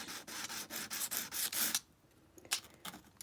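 A turning tool is rubbed flat on sandpaper to take off burrs, producing close, quiet rhythmic scraping strokes, then a pause and a few softer strokes.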